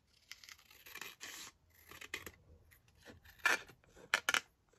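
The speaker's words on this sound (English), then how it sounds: "I'm just going to cut this down slightly in terms of height." Scissors snipping through paper while trimming a crafted envelope pocket down in height, a series of short crisp cuts and rustles, close and fairly quiet, with two sharper snips near the end.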